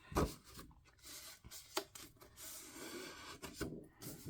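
A sheet of paper is folded over at a quarter-inch mark while making a craft album. Quiet, close rubbing and creasing scrapes come in a few short bursts against a soft room background, without speech.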